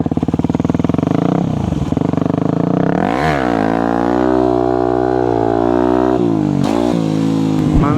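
Motorcycle engine revving hard at close range, rising and falling pitch sweeps as the throttle is held at steady revs and the clutch is dumped to lift a wheelie, loud and continuous.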